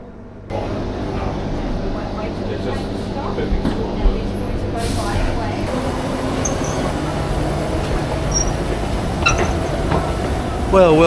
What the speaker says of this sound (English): Okay, here's the train we want to take us into Perth.